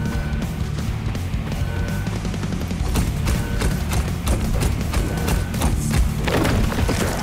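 Rapid bolter gunfire from Warhammer 40,000: Shootas, Blood & Teef, a dense run of loud, sharp repeated shots with heavy low thumps, growing busier in the second half, with no voices.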